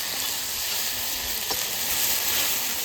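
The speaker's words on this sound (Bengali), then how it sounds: "মশলাটা ভালো করে কষাই নেব।" Spice masala with chili and garlic being fried in a pan for a thin country-chicken curry, giving a steady, close, continuous sizzle with faint stirring throughout.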